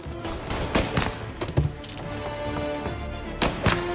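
Gunfire in the video game Mafia, a burst of sharp shots and heavy thuds in quick succession over a busy game soundscape, close and punchy, with no talk.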